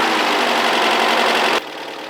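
A 1981 VW Vanagon engine runs during a tune-up, a loud, steady mechanical drone that drops abruptly in level shortly before the end.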